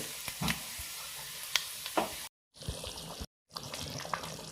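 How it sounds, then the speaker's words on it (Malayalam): Puli inji (tamarind-ginger curry) bubbles and hisses steadily in a pot at low volume, with a few sharp clinks and two brief dropouts of sound. "അപ്പോൾ നന്നായിട്ട് തിളച്ച് വന്നിട്ട് തുടങ്ങിയിട്ടുണ്ട്."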